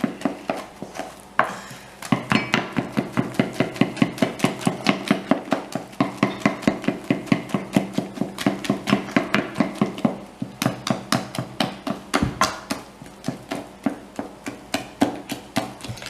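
Hot liquid gingerbread batter is beaten by hand as flour is mixed in, making a fast, steady rhythm of knocks from a spoon against the bowl that continues for many seconds. Close, with no speech.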